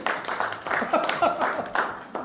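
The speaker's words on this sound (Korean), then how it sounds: "박수. 박수!" Clapping from a workshop audience in a small room, a short burst of scattered handclaps with voices talking and calling out over them.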